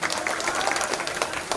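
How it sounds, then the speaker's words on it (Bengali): An audience at a company annual picnic event claps for a speaker, a dense, even burst of applause from many hands filling the short moment, with a faint voice underneath. "শহীদ ভাইয়ের জন্য জোরে একটা করতালি হবে।"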